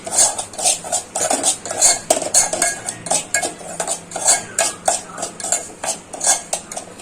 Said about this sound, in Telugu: సో కంటిన్యూగా తిప్పుకుంటూ 1 minute అలా ఫ్రై చేసుకోండి.